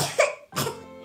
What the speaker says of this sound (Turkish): Barbie çok hasta, öksürüyor.